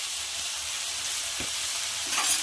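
Turmeric and red chili powder fry in a pan for a fish and drumstick curry, giving a steady, close hiss with a faint stir partway through and a louder crackle near the end.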